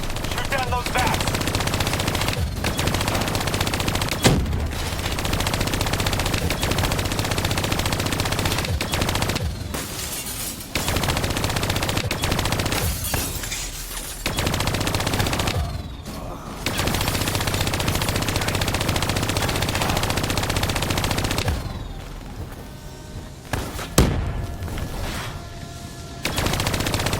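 Sustained machine gun fire from Call of Duty: Black Ops 3, loud, dense automatic bursts with short breaks in between, a battle soundscape running almost without pause.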